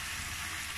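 Vegetables sizzle and fry in a pot while being stirred, a brief, steady hissing crackle.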